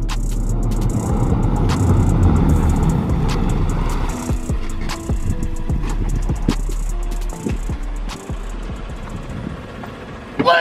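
A lifted Chevrolet Tahoe on 26x14 wheels rolls in fast, its loud engine rumble and broad road roar filling the first seconds before easing off into a steadier, softer drone with scattered clunks.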